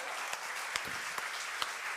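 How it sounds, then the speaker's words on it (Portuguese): A church congregation applauds God, a faint, distant wash of clapping with a few sharper individual claps at regular intervals. "Glórias a Ele, você pode aplaudir a Ele por isso."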